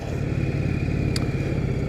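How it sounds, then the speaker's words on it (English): A 1998 Yamaha Virago XV1100 idling with its shaft drive spinning up, a steady close low engine rumble with a faint whine above it and one brief click partway through. "You can actually probably hear the shaft drive"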